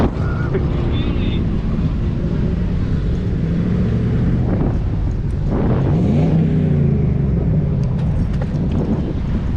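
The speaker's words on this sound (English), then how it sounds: "Oh, there's a car." Car passing near a parking lot where scooter riders practise jumps, a swelling engine rush under heavy wind buffeting on the microphone, rising and fading over a few seconds.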